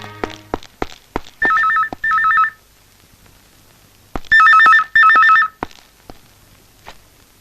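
A telephone rings in two loud bursts of electronic trilling, each a pair of warbling rings, separated by a pause and preceded by a few sharp knocks and thuds close by.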